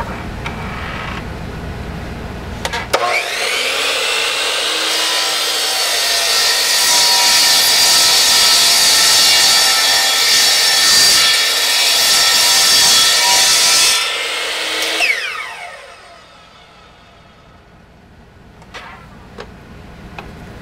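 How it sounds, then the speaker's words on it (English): A compound miter saw cuts through a wooden block for a precision router base: a loud, steady whining cut lasting about twelve seconds, then the motor spins down and faint workshop clicks follow. "next I'm going to remove the first cut off of the block right here on the compound miter saw"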